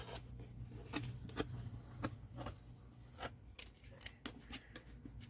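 A new blade cuts paper on a cutting mat, giving faint, scattered scraping strokes and soft ticks at uneven intervals over a low background hum.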